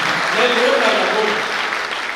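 An audience at a Bhagwan Baba death-anniversary festival in Akola claps together in a short, dense burst of applause, with a voice audible over it.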